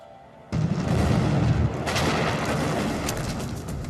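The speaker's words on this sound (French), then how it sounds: "Une explosion très puissante," A powerful underwater explosion, linked to the Kursk submarine disaster, bursts in suddenly as a deep, loud boom. It then rumbles on in a sustained roar, with no talk.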